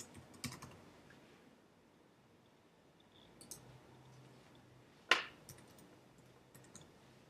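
Computer keyboard being typed on to enter a name, ID and email, with faint, sparse key taps and one sharper click, quiet and close, no talking.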